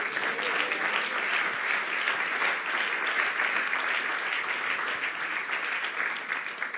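A church congregation applauds for Christ during a sermon on the apostolic ministry, steady sustained clapping from many hands throughout, fairly even and moderately loud.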